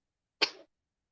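A single short sneeze bursts out once, brief and fairly quiet, in an otherwise silent moment.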